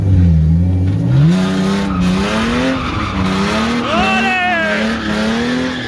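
At a drift event, a drift car's engine rises and dips as it accelerates while its tires squeal in wavering whines. The sound is loud and close, with a voice shouting encouragement over it.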